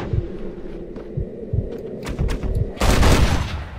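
A gunshot in Red Dead Redemption: Undead Nightmare booms out as one sharp, loud report near the end, after a stretch of low thudding ambience and rhythmic pulses.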